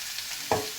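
Diced zucchini is stirred in a frying pan over a steady sizzle, with a single short scrape of the utensil against the pan partway through.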